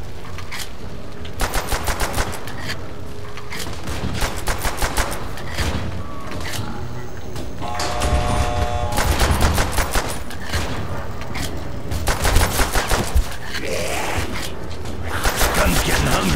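Automatic weapon fire from Call of Duty: World at War gameplay, several bursts of rapid shots spaced across the stretch over a constant game backdrop, with a rumbling louder section midway and tonal game sounds between bursts.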